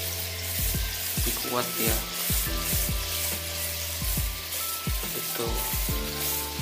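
A small mushroom-shaped water fountain for goldfish, fitted with thin bio-foam, splashes in a steady close hiss with scattered droplet plinks throughout; a voice speaks briefly over it.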